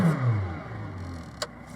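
A McLaren 765LT sports car accelerates hard on a straight, its engine note rising and then fading away over under two seconds, with a short click near the end.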